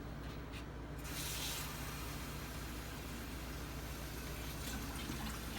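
Water pours steadily into a bowl, a continuous splashing rush that stays fairly even throughout, with a faint low hum underneath.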